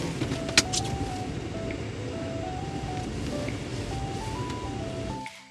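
A car creeps into a parking spot, its engine droning steadily up close while a faint repeating electronic chime beeps on and off, with a brief knock partway through, before the engine cuts out near the end.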